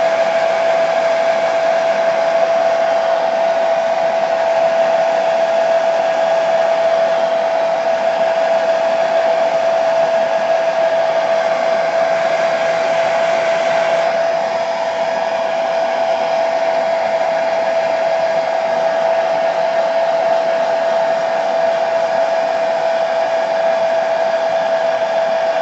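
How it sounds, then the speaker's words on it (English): A hair dryer blowing steadily and loudly on a repainted watch dial cover for a long stretch, a constant whirring hum with a steady high tone and a slight shift midway. "quick dry with a hairdryer."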